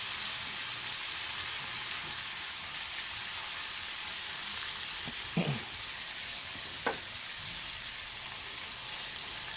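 Crablets deep-frying in bubbling oil give off a steady, close sizzling hiss, broken by a couple of brief clicks midway, with no voices present.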